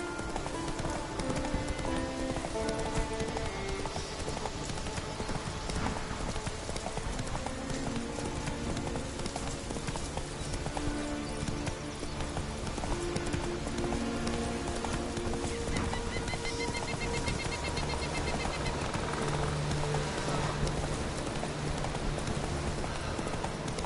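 Hooves of Roach, a horse in a video game, clip-clop in a steady rhythmic trot under continuous rain, with brief snorts, a neigh and a faint voice over an unbroken game soundscape.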